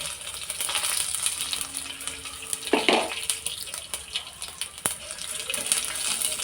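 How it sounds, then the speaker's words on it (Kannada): Garlic cloves and mustard seeds fry in hot oil in a pan, a steady broadband crackle and hiss with a brief louder sputter near the middle and a sharp click later, with no talk over it. "ಇವಾಗ ನಾನು ಬೆಳ್ಳುಳ್ಳಿಯನ್ನು ಹಾಕ್ತಾ ಇದ್ದೇನೆ ಬೆಳ್ಳುಳ್ಳಿ ಹಾಕಿ ಆದ ನಂತರ ಸಾಸಿವೆಯನ್ನು ಆ್ಯಡ್ ಮಾಡ್ತಾ ಇದ್ದೇನೆ"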